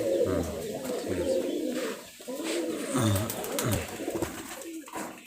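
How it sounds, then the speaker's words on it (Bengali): Several Giribaz highflyer pigeons cooing nearby in low, throaty, repeated calls that overlap continuously, with faint rustling in the background. "অরিজিনাল গিরিবাজ কবুতর এত বড় হয়"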